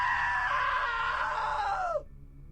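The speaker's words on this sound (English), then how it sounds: "Now that was a great scream." A long, loud scream from the video game What Remains of Edith Finch, a sustained shrill cry that wavers for about two seconds, then drops off abruptly into quiet.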